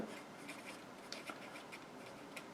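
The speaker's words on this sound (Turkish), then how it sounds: "Bu sefer alta yazıyorum." A pen or marker scratching across a surface during a primary-school maths lesson on place value, with soft continuous rubbing strokes and brief tapping accents, fairly faint and close, with no voice over it.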